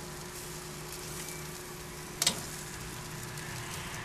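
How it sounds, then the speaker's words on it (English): Smoked country-style pork ribs sizzle steadily at low volume on a hot grill, a soft continuous crackle with one brief sharp pop midway. "Look at that sizzle on there."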